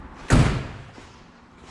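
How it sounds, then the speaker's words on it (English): A single solid slam as the door of a 1967 Chevelle Custom shuts, loud and near, with a heavy thud that fades quickly into quiet. "Doors close good."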